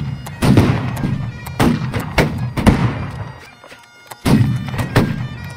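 Historical reenactors fire musket volleys outdoors, a series of sharp loud reports every half second or so with ragged, uneven timing, a brief lull, then more shots.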